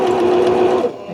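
A sewing machine runs loud and close while stitching a fabric project bag, a steady humming whir that holds for most of a second and then stops.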